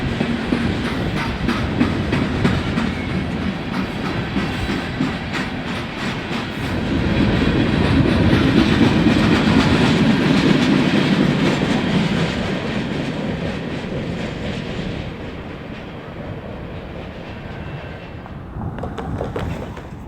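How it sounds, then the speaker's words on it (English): A Canadian National steel freight train, A490, running from Gary Works toward Big River Steel in Arkansas, rumbles past on the Elgin, Joliet & Eastern line with loud steady rolling and clickety-clack of wheels that swells midway and then fades. "This train originated from U.S. Steel's Gary Works and is bound for the company's Big River Steel in Arkansas."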